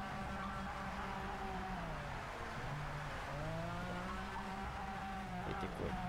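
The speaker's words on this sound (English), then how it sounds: "Let's just hear the sound of this car for a while." A 1992 McLaren F1 race car engine in the racing game Project CARS 3, its steady high-pitched whine rising and falling through gear changes, loud and continuous, with a brief tire squeal near the end.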